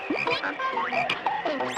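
A cartoon frog in a wintry fairy tale about a mitten croaks and chirps in a quick string of bright, warbling calls, close and clear with no talking over it.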